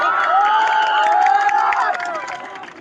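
A large outdoor crowd at a political rally in Uttar Pradesh roars and cheers with scattered clapping, a dense sustained swell of many voices that fades slightly toward the end.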